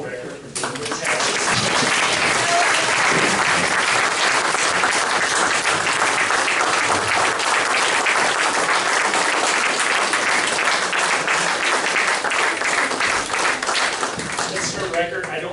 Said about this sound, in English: Please join me in a huge round of applause for Mr. Noah Recker